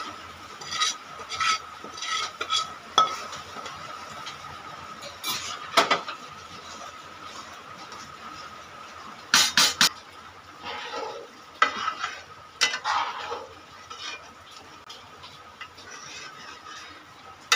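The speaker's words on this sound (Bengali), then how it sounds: "এবার মশলাটা কষিয়ে ঢেলে দিলাম।" A spice mix fries in a pan with a soft steady sizzle, broken by scraping stirs and sharp spoon clinks against the pan, close-up and moderately quiet with no talking.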